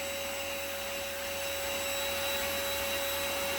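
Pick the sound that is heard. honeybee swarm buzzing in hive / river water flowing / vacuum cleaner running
vacuum cleaner running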